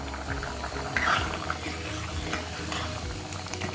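Koorkan kilangu sambar bubbling at a steady boil in a covered pot, a continuous close simmer with small pops and no talking.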